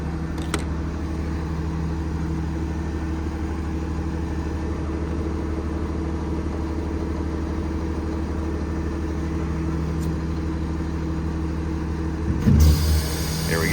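A 2016 Kenworth T370 diesel truck with a PX9 engine runs at a steady low idle after being restarted by remote, an even rumble with a brief clunk and louder burst at the end.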